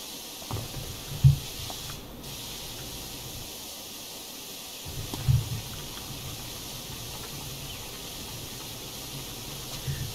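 A pressure washer sprays water in the video game PowerWash Simulator, a steady, soft hiss that runs through the whole stretch, with a couple of brief low thumps.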